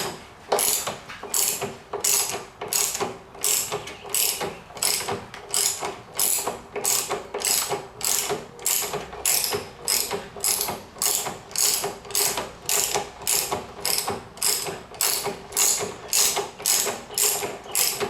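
Steady, rapid ratchet clicking with a 17 mm socket loosening the fork cap on a Honda VTX 1300R motorcycle, close and even in rhythm from start to finish with no talking.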